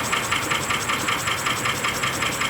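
Early-1800s-principle engine running at a vintage engine show, a steady rhythmic chuffing and knocking beat that repeats evenly, fairly loud and close, with no talking over it.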